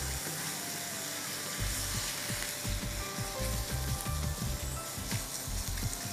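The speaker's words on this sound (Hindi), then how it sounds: "कुटी हुई लाल मिर्चें जाएंगी, जितना स्पाइसी आपको करना हो उसको मसालों के साथ भून लेते हैं" Minced meat frying with crushed red chillies and spices, a dense close sizzle throughout with repeated soft scrapes and knocks of a spoon stirring the pan.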